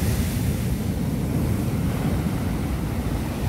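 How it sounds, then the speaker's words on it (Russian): Constant roar of sea surf washing onto a beach at Lazarevskoye, heavy and close, with gusty wind buffeting the microphone throughout and no voices. "Смотрите, волна вообще."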